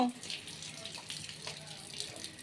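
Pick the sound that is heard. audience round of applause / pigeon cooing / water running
water running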